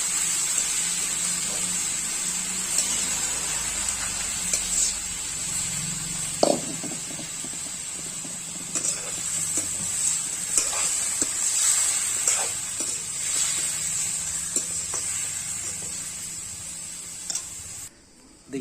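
Mutton frying in a pan for a simple curry, a steady close hiss and sizzle running throughout with faint spatters and occasional small clinks, no talk.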